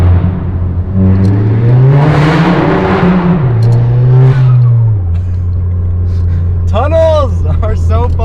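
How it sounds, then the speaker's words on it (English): A bagged Stage 2 Volkswagen MK7 GTI with an aftermarket exhaust accelerates through a highway tunnel, its engine note climbing in a loud, echoing drone before easing off, with a voice talking over the end. "Tunnels are so fun with an exhaust."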